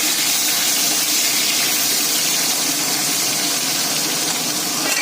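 Fish frying in mustard oil in a pan, giving a steady, loud broadband hiss and crackle of hot oil that continues evenly throughout, with no talking.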